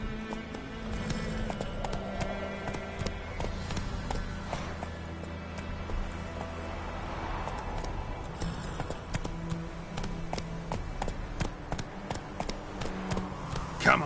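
Hooves of Roach, the horse in The Witcher 3, clopping rapidly in a steady galloping rhythm under game music, with a brief voice near the end.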